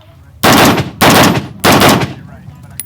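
Three loud, sharp gunshots ring out in a steady rhythm, about half a second apart, fired at targets in a shooting match, with a faint background between shots.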